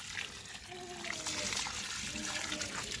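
Garden plants being watered slowly at their base, a soft continuous trickle and splash of water running close by, steady throughout with no talking.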